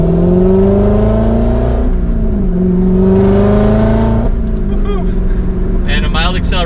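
Chevrolet Corvette C7 Z06 engine under mild acceleration while driving, a steady close drone with harmonics rising in pitch, briefly dipping at shifts, as someone talks over it throughout.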